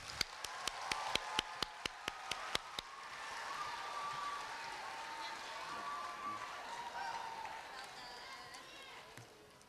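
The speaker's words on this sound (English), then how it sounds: "let's give them another round of applause" A few people clap in steady rhythm, then the sound swells into broad crowd applause and cheering at a university graduation ceremony that gradually fades.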